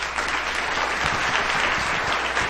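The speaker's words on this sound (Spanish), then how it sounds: "es momento de que se escuche el aplauso para David Sasaki" Dense, steady audience applause for a speaker at a TEDx salon event, a full crowd clapping continuously at even loudness before cutting off abruptly at the end.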